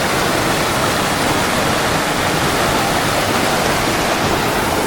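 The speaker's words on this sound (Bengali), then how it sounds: "সেই পাথর থেকে জল আসছে।" Water pours down over big rocks on a hillside trail at Parasnath in Jharkhand, a loud, steady, unbroken rushing hiss close by with no voices.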